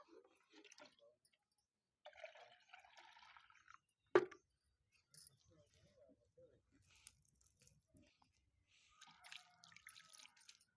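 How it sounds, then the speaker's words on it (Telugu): Quiet, scattered splashes and drips as water is poured onto a seed tray for tomato, chilli and brinjal seedlings, with one sharp tap midway and faint trickling between. "కొన్ని నీళ్ళు వేసుకుంటాయి ఇందులో"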